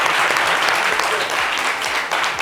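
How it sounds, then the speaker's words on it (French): A studio audience on a French-language midday talk show bursts into loud, sustained applause, with a voice faintly present beneath the clapping. "Applaudissez-vous bien fort."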